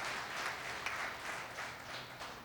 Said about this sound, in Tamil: அவருக்கு அரங்கு நிறைந்த கைத்தட்டலை தந்து